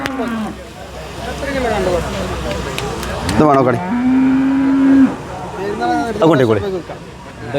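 A water buffalo at a livestock market gives a long, low moo close by, with voices chattering before and after it.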